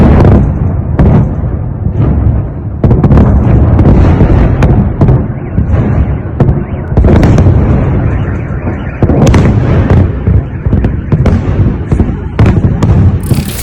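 Ukrainian missile strikes and Russian air defense fire over Belgorod: loud, dense booms and cracking bursts pile up continuously, with sharper blasts standing out at intervals and no voices.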